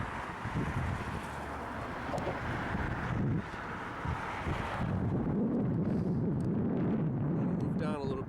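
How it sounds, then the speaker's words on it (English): Strong gusting wind roars and buffets across the microphone on a bridge, a constant low rumble with some faint voice mixed in. "This is a very windy day."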